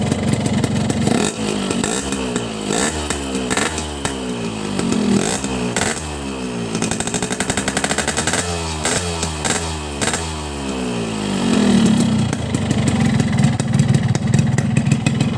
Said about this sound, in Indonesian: Coba gua geber dikit.